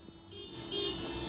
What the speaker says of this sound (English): Just honking outside of this giant facility with this massive wall with like reinforced cement.